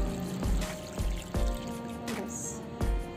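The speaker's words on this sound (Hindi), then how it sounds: "देखिए मैं पानी दे रही हूँ, पहली बार पानी दे रही हूँ तो पूरा भर के मैं पानी दूंगी" Water poured from a container into the soil of a freshly potted hybrid vinca plant, giving soft splashing and trickling pulses close by, with a few knocks between them.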